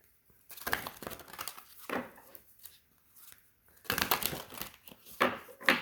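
A deck of tarot cards is shuffled and cards are drawn, giving close, irregular bursts of papery riffling and crisp slaps with quiet gaps between, no voice audible.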